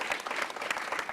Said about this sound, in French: Et on va l'applaudir bien fort, s'il vous plaît.